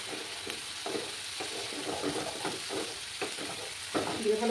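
Turmeric and spices sautéed with tomato paste for a Bengali katla fish curry, a steady close sizzle broken by the scrape of repeated stirring strokes, with no talk over it.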